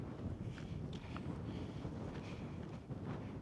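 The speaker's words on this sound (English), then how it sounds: "The extremely windy part." Strong gusty wind roars across an exposed mountain ridge on the Coledale Horseshoe in the Lake District, loud continuous buffeting against the microphone with no speech.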